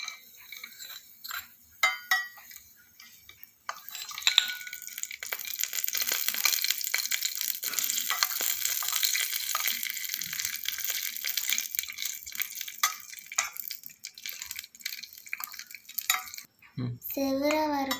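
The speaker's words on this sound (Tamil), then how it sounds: "இப்போ வந்து வதக்கிக்கலாம் முந்திரி திராட்சை போட்டு." Cashews and raisins frying in ghee in a tiny miniature pan for a carrot payasam, a steady crackling sizzle that runs for most of the clip after a few scattered clinks at the start.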